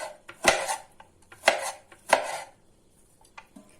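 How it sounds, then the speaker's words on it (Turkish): A knife slices through onion on a cutting board in three firm strokes with brief pauses between, followed by a few lighter taps, close and distinct. "Yine bu şekilde dilimliyorum soğanı."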